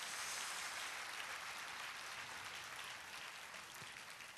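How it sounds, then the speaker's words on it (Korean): A church congregation at a revival meeting breaks into sustained applause, a dense, even wash of clapping heard faintly and from a distance, slowly fading toward the end. "다시 한번 우리 힘차게 하나님께 영광의 박수 올리겠습니다"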